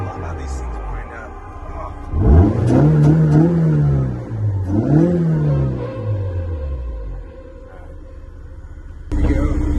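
A Super Cooper car engine revs up and settles twice on a test drive, loud and close with a rising and falling drone, and a voice talks over it.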